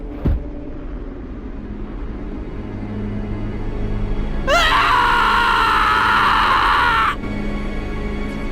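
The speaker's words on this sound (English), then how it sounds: "Petrified at the situation, he screams." A character screams in the horror video game Corpse Party, reacting to a friend being cannibalized; a loud, sustained high scream bursts out midway and holds for a few seconds over a low, droning rumble.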